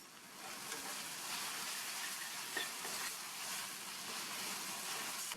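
Masala for a raw plantain dish sizzles and crackles steadily in hot oil in a pan while being stirred, a continuous soft frying hiss with faint scraping.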